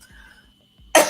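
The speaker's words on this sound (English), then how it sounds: "Y'all know I start this coughing every time I get on this live" A single sharp, loud cough at the end of a quiet stretch, close to the microphone.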